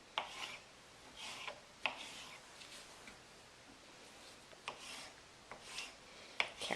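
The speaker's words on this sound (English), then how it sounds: "and then you can slice them" A knife slices red bell peppers on a cutting board, giving soft, intermittent scraping strokes with a few sharper taps, quiet and close, spaced irregularly.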